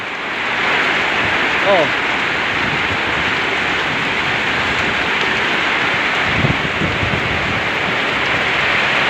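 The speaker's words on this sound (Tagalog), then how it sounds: "ang lakas hangin saka ulan" Heavy rain and strong wind pound a house during a storm in Flora, Apayao, with zero visibility outside: a loud, continuous roar of downpour and gusts while a person talks briefly over it.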